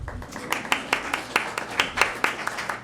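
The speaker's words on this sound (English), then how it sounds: "Clap, clap, clap, clap, yes." Slow, evenly spaced hand claps at a board of trustees meeting, about a dozen sharp claps in steady rhythm, fairly close and moderately loud over a quiet room.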